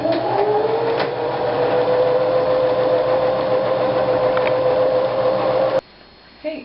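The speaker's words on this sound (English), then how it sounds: "we're just going to sew straight down to make the pocket" A sewing machine runs a straight seam to make a pocket on a pillow, a loud, close, steady motor hum with a rising whine that stops abruptly near the end, followed by quiet room sound.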